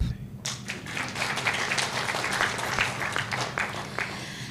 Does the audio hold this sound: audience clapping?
yes